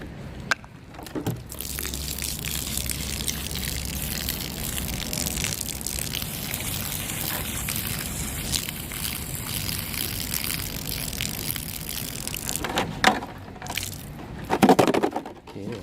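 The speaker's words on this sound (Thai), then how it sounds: "เดี๋ยวเราเทน้ำออกก่อน" Water poured out of a container that holds test-fired JHP bullets, a steady gushing and trickling pour lasting most of the clip, with a few clinks and handling knocks near the end.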